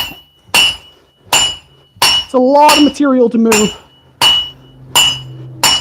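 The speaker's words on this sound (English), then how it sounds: "I should probably switch to a heavier hammer too" Repeated hammer blows ring out as a dagger is forged with a 2.5 to 3 pound hammer, sharp metallic strikes spaced about a second apart, with a voice talking and humming between them.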